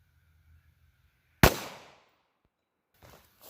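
A single sharp gunshot from a Kel-Tec PMR30 .22 Magnum pistol firing Hornady Critical Defense 45 grain FTX into ballistic gel, loud and close with a brief decaying tail, set against near silence.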